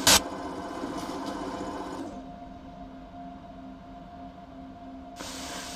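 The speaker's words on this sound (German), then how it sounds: "Zug Viktor nach Hennigsdorf, abfahren." A historic Berlin S-Bahn train on the S25 to Hennigsdorf departs in Train Simulator, with a loud thump followed by steady motor whine and rolling hiss that drops in level, then a bright hiss burst near the end.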